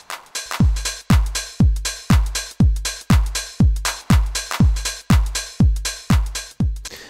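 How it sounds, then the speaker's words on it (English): Punchy house-track kick drum thumping in a steady four-on-the-floor beat with swung percussion hits between, close and loud with no voices. "Let me bring the kick in for reference."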